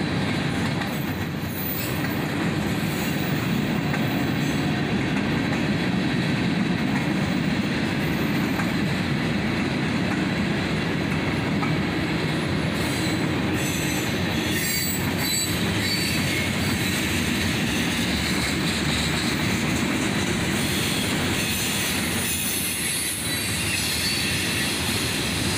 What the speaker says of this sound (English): This was J783, the southbound counterpart train to the 782 we saw earlier.